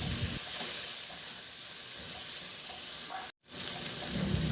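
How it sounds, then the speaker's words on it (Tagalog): Garlic and onion sauté in a little oil in a pan, giving a steady close sizzle that runs throughout, with a brief dropout near the end before the frying hiss resumes. "binawasan ko lang din yung mantika at igisa ko na yung bawang"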